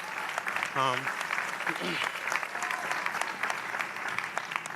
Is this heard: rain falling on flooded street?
no